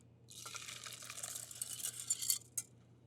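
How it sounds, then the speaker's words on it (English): Hot milk and egg yolk mixture pours back into a pot, a soft continuous splashing trickle lasting a few seconds, faint and close, ending with a light clink. "And I'll add this entire mixture back to the pot."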